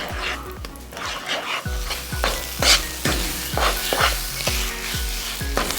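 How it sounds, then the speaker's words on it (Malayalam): Mawa peda mixture is stirred in a hot pan, with a steady sizzle and repeated scraping strokes of a spoon against the metal at a regular rhythm, close and fairly loud, with no talking. "ആഡ് ചെയ്യും തോറും ജസ്റ്റ് നമ്മൾ ഇളക്കി നന്നായിട്ട് മിക്സ് ചെയ്ത് കൊടുക്കണം"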